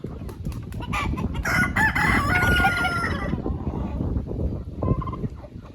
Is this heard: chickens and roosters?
yes